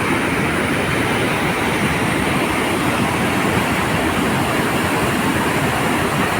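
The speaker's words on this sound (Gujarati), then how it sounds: "ખૂબ પાણી જઈ રહ્યું છે." The Tapi river rushing over the weir causeway in Surat during an overflow, heard as a loud, continuous, broadband roar of water with no pauses.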